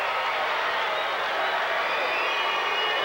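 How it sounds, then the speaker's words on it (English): A crowd at a 1996 high school boys' state wrestling final gives off a steady, loud roar of voices and booing that fills the whole space without a break. "You hear some boos from the crowd."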